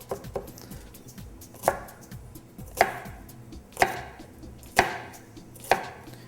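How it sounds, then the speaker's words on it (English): A knife slices a shallot on a cutting board, landing in sharp, evenly spaced chops roughly once a second. The chops are close and crisp, with faint scraping between strokes, and no one speaks. "Just slicing across one way and then slicing across in another direction"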